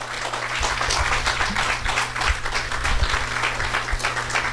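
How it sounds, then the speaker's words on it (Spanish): A church congregation gives sustained applause to Jesus, a dense, steady wash of many hands clapping together, loud and continuous over a low background hum. "Denle un fuerte aplauso a Jesús"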